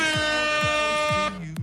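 A loud air horn sound effect blasts during a live poker stream, one sustained blaring tone held for over a second before cutting off and trailing into quieter sound.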